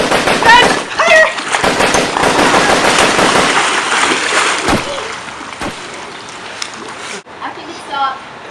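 Machine gun fire from an attacking plane rattles in loud, rapid bursts mixed with splashing impacts and shouting voices, then cuts to quieter sounds as voices continue.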